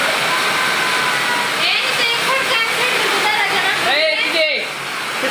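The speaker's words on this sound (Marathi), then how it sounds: "मित्रांनो जोरदार पाऊस झाला." Heavy rain pours down outside a house in a dense, steady roaring wash, loud and continuous, with people talking over it briefly near the end.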